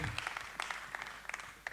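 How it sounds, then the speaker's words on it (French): A small crowd at a gospel concert claps briefly, with individual hand claps distinct in the fairly quiet, scattered applause. "Est-ce qu'on peut applaudir pour ça?"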